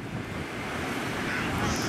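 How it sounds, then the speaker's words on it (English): Steady, broad wind rushing and buffeting a microphone on a seaside headland, with a low surf-like roar underneath and no clear voices. "It's a bit windy."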